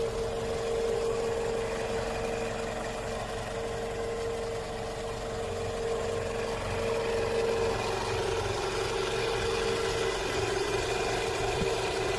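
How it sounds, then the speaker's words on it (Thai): A 2005 Toyota Camry 2.0 E automatic idles steadily with a smooth, even hum and low rumble, close by and unchanging throughout, with no talking. "เครื่องยนต์นิ่งมากเลยนะครับ"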